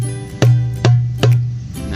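Darbuka doum bass strokes played with the palm: three deep, resonant booming hits with ringing low tones, evenly spaced and close, with no talking.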